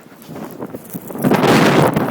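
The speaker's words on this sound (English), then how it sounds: "It's still freaking windy." Strong April snowstorm wind gusts against the microphone, starting as a softer rustle and swelling into a loud, roaring buffet in the second half, with no talking.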